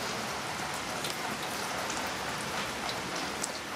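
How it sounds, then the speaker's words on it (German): Heavy rain pours steadily on a balcony, a dense, even hiss with scattered nearby drips and patters throughout, with no voices. "wie ihr sehen könnt, es regnet in Strömen"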